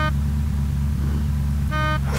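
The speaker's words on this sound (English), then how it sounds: "I hear a car" A steady engine drone with a low rumbling hum of a car driving in the video game Unturned, broken by two short tonal honks near the start and end.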